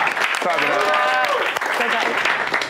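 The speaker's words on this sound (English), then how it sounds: "Clap it up, clap it up." An audience at a fitness and nutrition coaching presentation breaks into brisk applause, with voices whooping and talking over the clapping, which holds fairly steady and close for a couple of seconds.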